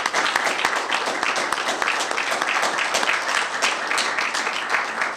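Applause at a bill signing ceremony with county officials, steady hand clapping from a modest crowd that fills the room continuously at moderate volume.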